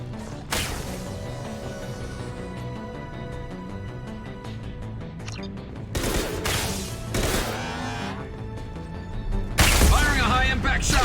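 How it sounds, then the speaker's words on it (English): Heavy gunfire from Mass Effect 2, a high-impact weapon, cracks out in several loud bursts, with sharp blasts near the six, seven and ten second marks over a layer of game music and background effects. "Firing a high-impact shot!"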